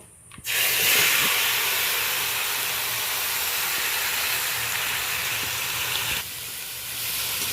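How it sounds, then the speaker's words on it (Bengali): Marinated crabs drop into hot tempering oil, and a loud hiss bursts up at once. The sizzle holds steady for several seconds, then eases slightly near the end, with no talking. "এই পর্যায়ে আমি এই মাখানো কাঁকড়াগুলোকে অ্যাড করে দেব।"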